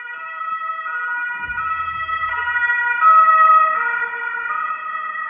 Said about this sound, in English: There is so much ambulance activity today, I have no idea what's happening.